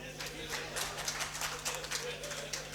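Audience applause at a Hindi poetry gathering (kavi sammelan), a steady patter of many hands clapping together throughout, fairly full and continuous with a low hum underneath.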